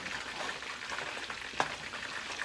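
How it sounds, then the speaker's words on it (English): Ground turkey for turkey chili sizzles steadily in a pan as a utensil stirs and breaks it up, with a single sharp scrape or clink partway through. "I am going to stir that. I'm going to continue to break up my meat"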